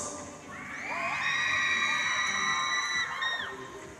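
Girls in a crowd shout and cheer at a half-marathon finish line, a loud sustained chorus of high-pitched whoops and screams that swells and then fades slightly.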